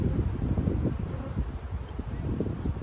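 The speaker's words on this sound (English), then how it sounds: "A lot of young bees." Honeybees buzzing around an opened Langstroth hive during a spring split, a steady low drone with fluttering wingbeats close to the microphone and no talk.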